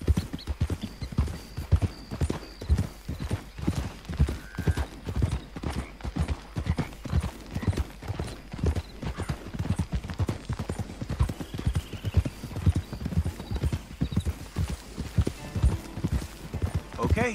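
Hooves clip-clop in a rapid, steady galloping rhythm throughout, loud and close, with occasional faint whinnies mixed in, from the video game Red Dead Redemption 2.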